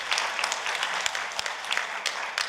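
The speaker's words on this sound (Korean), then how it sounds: "박수" Audience at a Korean economic forum debate applauding a panelist's introduction, a steady wash of moderate clapping with some sharper individual claps, a little distant.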